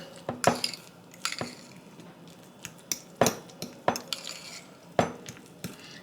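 A utensil stirs food colouring into a cheese sandwich filling in a bowl, giving sharp intermittent clinks and scrapes against the bowl with soft squishy mixing between them, close and fairly quiet.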